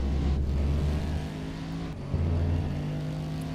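Engine drone from a race car in a GT sim racing game at Circuit Zolder, a steady low hum as the car coasts off throttle before braking, with a brief dip and a renewed surge near the end and no talking.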